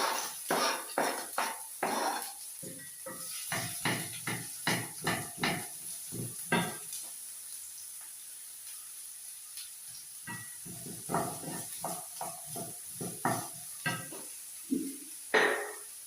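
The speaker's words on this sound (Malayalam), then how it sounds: "പാൻ ചൂടായിട്ടുണ്ട്. വെളിച്ചെണ്ണ ഒഴിച്ചു കൊടുക്കുകയാണ്." Coconut oil poured into a hot frying pan in a home kitchen, crackling bursts of sizzle that come in rapid clusters, pause, then return, over a constant high-pitched hiss.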